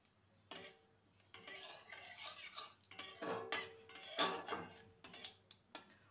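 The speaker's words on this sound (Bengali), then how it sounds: "ফোড়নটাকে কয়েক সেকেন্ড ভেজে নেব।" Whole cumin seeds tempered in hot oil for a Bengali egg ghugni, heard as light irregular clinks and scraping of a utensil against the pan, with soft crackle between the strokes.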